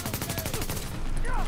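Rapid automatic gunfire from Tom Clancy's The Division video game rattles in a quick even burst of shots, loud and close, followed by a faint brief sound.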